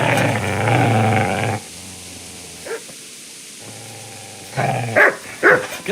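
A dog in the medieval game Kingdom Come: Deliverance gives a low rumbling growl, then after a quiet pause lets out a few sharp, loud barks close by.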